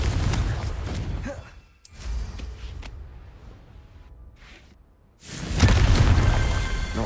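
A Confringo fire spell bursts in a video game: a loud, roaring blast opens, a second hit follows about two seconds later, the noise thins to a low rumble, then a heavy explosion surges back and sustains to the end.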